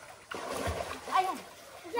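A child jumps into the water at La Cereza Beach Resort in Agdangan, Quezon, making a sudden close splash followed by sloshing, with a voice and other talk over it.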